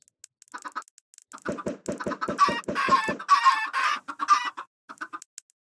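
Chickens in a video game cluck and squawk in quick rhythmic bursts that build into a dense flurry and then fade out, heard alone and up close.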